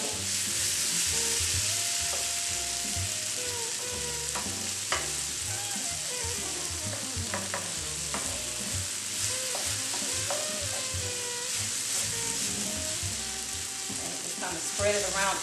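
Tofu scramble sizzles and fries steadily in a hot pan, with a bright continuous hiss and occasional stirring scrapes and clicks throughout, heard up close with no talking.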